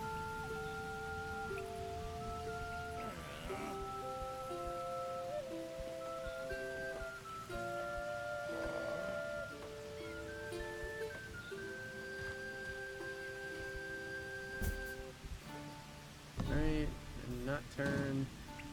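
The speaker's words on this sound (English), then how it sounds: "It's raining." Rain falls in the video game For The King 2, a soft steady patter running beneath layered game music and sound effects.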